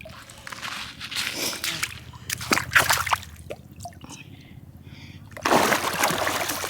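Frank the dog swims and splashes in a lake on a hot Arctic day, making intermittent sloshing and splattering bursts, some close and loud, between quieter lapping water.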